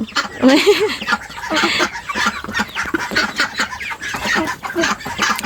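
Chickens cluck and squawk loudly and close by in a busy, overlapping chorus, with ducks and other farmyard birds mixed in.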